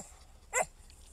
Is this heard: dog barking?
yes